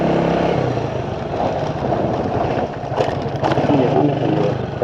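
A motorcycle engine runs steadily on a street near a motorcycle repair shop, a continuous close rumble with slight variations in revs throughout.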